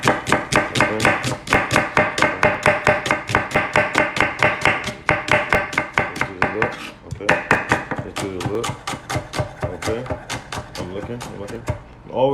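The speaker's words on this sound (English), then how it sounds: "So we got our nice onion cut." A knife chops an onion on a board in quick, steady, close strikes, with a few short pauses between bursts of rhythmic cuts.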